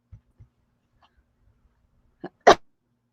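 A single sharp sneeze indoors, a short intake of breath followed by a loud burst, preceded by a few faint soft taps in an otherwise quiet room.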